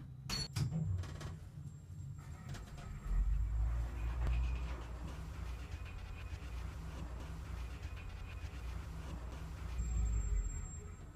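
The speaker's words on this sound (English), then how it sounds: "This lift is moving up." A lift carriage in a Scratch elevator ride climbs between floors, giving a low steady rumbling hum with a few soft knocks at the start and a faint whine near the end.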